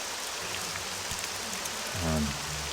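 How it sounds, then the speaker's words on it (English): Steady rain hisses evenly in the town of Balmora in the video game Morrowind, with a brief low rumbling tone rising near the end. "Get the sound of the rain back."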